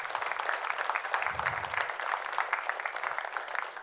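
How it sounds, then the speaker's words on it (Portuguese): Congregation applauding during a Bible study gathering, continuous clapping from a crowd of hands with a brief low thump partway through, steady and fairly loud throughout. "Vamos aplaudir o Senhor"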